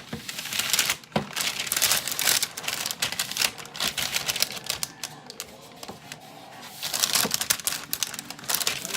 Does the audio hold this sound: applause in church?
no